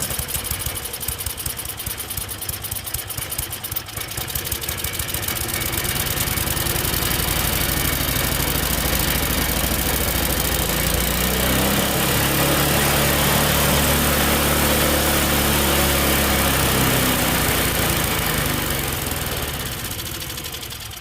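A Tecumseh snowblower engine, just after a carburetor clean, catches and runs on its own, a loud steady small-engine drone that settles into a continuous idle close to the microphone, with no talking.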